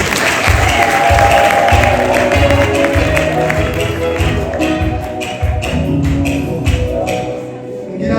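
Wedding guests applauding right after the couple's vows, loud, sustained crowd clapping with a rhythmic pulse and a faint murmur of voices underneath.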